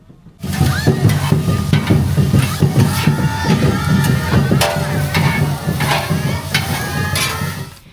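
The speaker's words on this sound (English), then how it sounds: "Vendors cooked up some traditional Japanese dishes." Street-food vendors cook traditional Japanese dishes such as okonomiyaki, yakisoba and takoyaki on hot griddles. Close, continuous sizzling and frying runs with scraping and stirring clatter, and a faint crowd murmur sits underneath.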